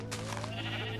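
Minecraft sheep bleating once, a short wavering bleat heard close and clear against a steady low game background with no talk.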